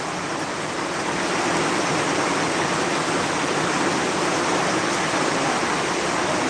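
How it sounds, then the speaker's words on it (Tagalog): Very heavy rain roars continuously in a dense, even wash of noise close by, with no voices. "Grabe ang ulan."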